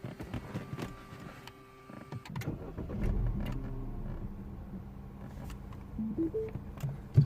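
A Mini One R56 engine, upgraded from 1.4 to 1.6 litres and having engine issues, turns over and catches, then settles into a low, steady idle rumble, heard close with a few small clicks and beeps.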